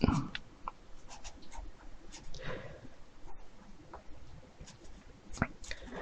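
A pencil drawing over a sketch contour on paper makes soft, close scratchy strokes in short irregular bursts, with quiet rustles and a faint murmur of speech underneath.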